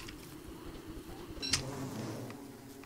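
Bees from Don't Starve: Reign of Giants buzz faintly and continuously in the game, with a brief brighter blip partway through.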